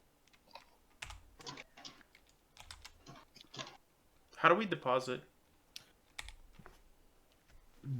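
Bursts of clicky typing on a computer keyboard, with close, rapid keystrokes in short runs and pauses, as a person briefly speaks in the middle.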